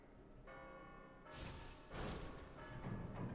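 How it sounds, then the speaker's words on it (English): Bells in the video game Pillars of Eternity ring out in a cluster of bright, resonant chimes that overlap and swell, with a low ambient hum underneath. "I hear bells."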